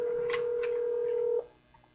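A telephone ringback tone on an outgoing call to C-SPAN: one steady, clear tone holds for about a second and a half, then cuts off into quiet. No one speaks.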